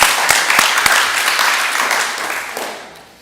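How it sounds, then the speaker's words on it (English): A crowd at a hackathon finals event applauds a winning team, dense clapping loud and steady throughout before tapering off slightly at the end. "So please, everybody, a round of applause."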